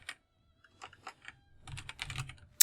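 Keystrokes on a computer keyboard: scattered single taps, then a quicker burst of close, crisp clicks, ending with one sharper key press, with no voices.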